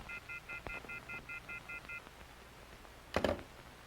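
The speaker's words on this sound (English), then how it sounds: "I'm sorry, I don't speak dial tone." A run of short, evenly spaced telephone keypad tones beeps rapidly, followed by a pause and a brief louder clatter near the end.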